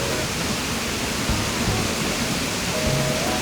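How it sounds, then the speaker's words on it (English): Steady, dense rushing of a waterfall in the video game Animal Crossing: New Horizons, an even broadband wash with no breaks, loud and close. "this is a waterfall"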